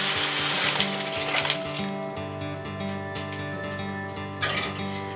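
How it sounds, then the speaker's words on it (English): Close, bright sizzling of rice frying in a hot pan for Spanish rice, a burst of crackle that settles into a steady hiss with faint clinks of a utensil. "And let's hear that sizzle."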